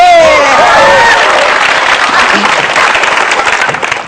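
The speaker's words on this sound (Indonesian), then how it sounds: "Jadi beri tepuk tangan buat Sigit." Audience applause fills a stand-up comedy show on Indonesian television, loud and sustained clapping from the crowd that swells at once and holds steady before starting to fade near the end.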